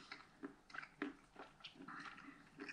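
Close, crisp crunching and chewing of Whittaker's chocolate with raisins, with irregular bites and grinding noises and no talking.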